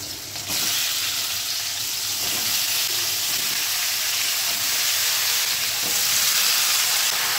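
Vegetables tipped into a hot pan already holding nigella seeds, green chilies and salt, for a Bengali seddho rosha cooked without onion or garlic, set off a loud, steady, close sizzle that continues as they fry, with no talking.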